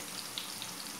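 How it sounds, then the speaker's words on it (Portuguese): Breaded chicken tenderloin pieces coated in panko fry in fat that is not very hot. A soft, steady sizzle runs throughout with a few faint crackles, and no one is talking. "já estou colocando aqui, ó, os pedacinhos de sassami para fritar."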